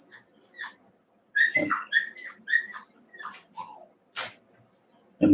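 A pet dog whimpers and fusses as it is carried off to bed: a string of high, thin whines and yelps in uneven bursts, close by, with short pauses between cries.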